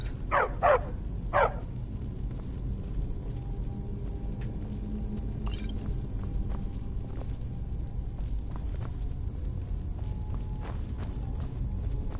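A dog in Skyrim gives three quick barks close by at the start, followed by a low rumbling game ambience with faint clopping footsteps and scattered small sounds.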